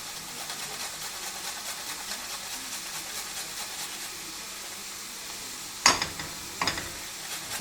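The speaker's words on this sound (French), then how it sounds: "On met la courgette dans la poêle avec l'ail." Courgette and garlic cooking gently in a frying pan: a soft, even sizzle, then a few sharp utensil clatters and scrapes toward the end, no voices.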